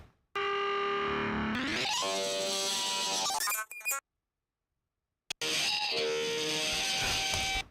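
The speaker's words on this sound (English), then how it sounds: "So again, one more time, pitching it up and down without any warping." A harmonic audio clip pitched up and down without time warping, rising in tone and speed, cut to silence, then replayed at a different pitch; loud, processed and alone.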